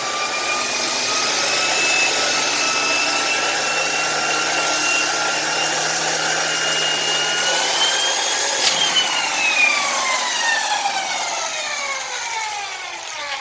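A late-1990s turbine vacuum power head, a 1999 example, runs steadily with its brush roll spinning at high speed, giving a continuous whirring whine whose pitch slides downward near the end as it spins down.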